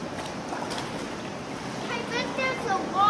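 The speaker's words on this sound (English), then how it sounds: "Do you guys hear the water going off in there?" Water running somewhere inside a cave, a steady broadband rushing wash that swells slightly toward the end, with faint voices and movement nearby.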